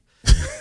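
A single short cough bursts out close to the microphone in a quiet studio during a radio talk show, then trails off into brief low rumble.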